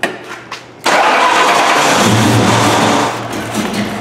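A Ford Mustang GT engine attempting its first start after a project build: a brief cranking, then the engine catches with a loud, rough roar that holds steady before easing slightly, up close with no talking.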